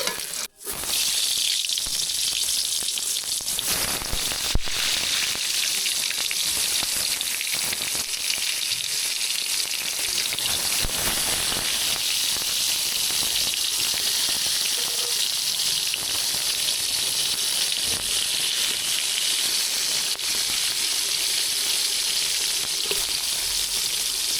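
Eggplant slices fry in hot oil with turmeric, chili powder and salt, giving a loud, steady broadband sizzle that runs unbroken and close-up, with a few faint clinks early on.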